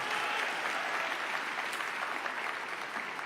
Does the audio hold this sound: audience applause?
yes